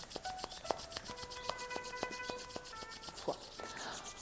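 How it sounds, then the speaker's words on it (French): Palms of the hands rubbed briskly together during a qi gong exercise, a close, steady swishing friction with quick repeated strokes and no talking. "On frotte bien la paume des mains pour faire venir l'énergie dans les laogong."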